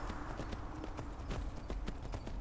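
Horse hooves clip-clopping in a video game, a quick, steady run of close hoof clops over a low rumbling background, no talking.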